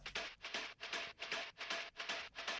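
A fast techno top loop run through a vocal effect chain pulses in about eight bright, hissy bursts with short gaps, a steady driving rhythm, loud and alone with no voices.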